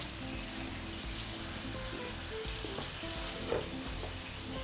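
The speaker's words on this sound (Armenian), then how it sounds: "Մի կողմը տապակվեց, շրջենք և տապակենք նաև մյուս կողմը։" Pork neck frying in a pan, a soft continuous sizzle and crackle that stays faint and even, with a small spatter near the end and no speech.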